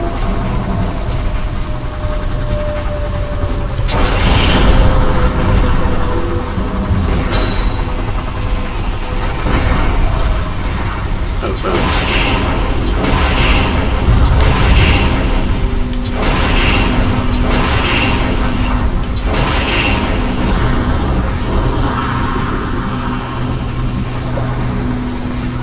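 Enemy gunfire and explosions from the 2002 MechAssault mech combat game, with a dense rumbling battle bed and a series of sharp, repeated bursts and blasts landing in clusters over about twenty-five seconds.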